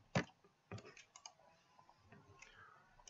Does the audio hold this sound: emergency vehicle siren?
no